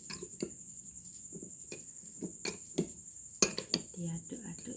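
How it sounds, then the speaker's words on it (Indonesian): Sweet soy sauce being stirred through a goat satay marinade in a bowl, with repeated soft clinks and scrapes of a utensil against the dish in an irregular rhythm, close and fairly quiet. "Diaduk-aduk sampai rata ya teman-teman"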